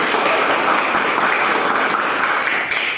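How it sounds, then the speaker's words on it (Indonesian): A burst of group applause fills a university automotive engineering classroom, many hands clapping densely and steadily before tapering slightly at the end. "Beri tepuk tangan lagi."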